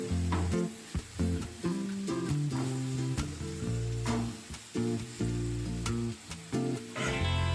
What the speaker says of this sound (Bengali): টমেটোটাকেও এমনভাবে ভাজবো যাতে টমেটোটা সুন্দরভাবে গলে যায়।